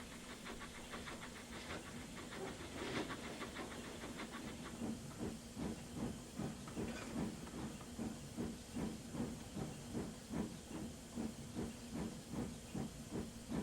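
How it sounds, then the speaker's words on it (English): Steady rhythmic chuffing of a steam locomotive, regular puffs with a background hiss, moderately close and fairly quiet, from a Thomas & Friends adaptation. "Edward puffed away towards Knapford."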